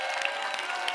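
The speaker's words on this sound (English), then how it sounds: "Let's give him a round of applause." An audience breaks into dense, continuous applause, a steady wash of many hands clapping at close range throughout the short moment.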